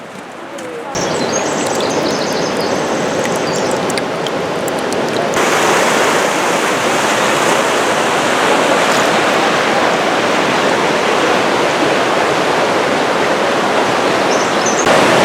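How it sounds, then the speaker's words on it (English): Water flowing down a creek into Park Creek Canyon makes a loud, broad, unbroken rush that holds steady from start to finish. Faint bird chirps come through near the beginning. "that water flows down and into Park Creek Canyon, and that's the water that we see right now"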